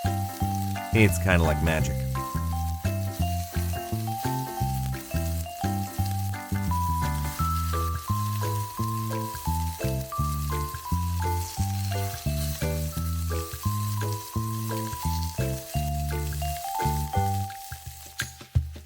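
Turkey burgers sizzle in an oiled, preheated stainless steel pan, a steady frying hiss under prominent background music, with a brief spoken line.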